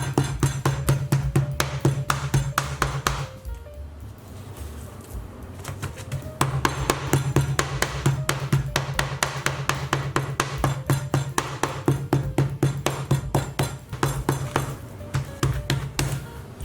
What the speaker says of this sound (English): use the blunt side of our knife, not the sharp one, but the blunt, to tenderize this